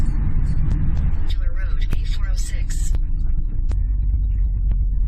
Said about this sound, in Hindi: ये देखे, ये ट्रैफिक जाम देखे, ये सब ट्रैफिक जाम है।